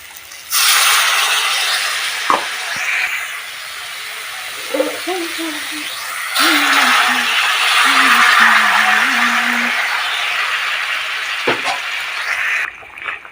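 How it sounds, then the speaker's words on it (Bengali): A little water poured into sautéed potatoes in a hot pan sets off a loud, sustained sizzling hiss, with a voice talking briefly over it. "এখন এর মধ্যে দিয়ে দেব অল্প জল"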